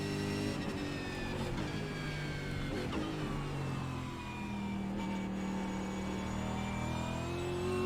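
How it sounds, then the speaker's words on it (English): A racing car engine in the iRacing simulator, a Mustang or ZB Commodore, drones steadily, its pitch climbing and dipping as it revs, a continuous mechanical hum throughout. "the engine sounds pretty much identical to me"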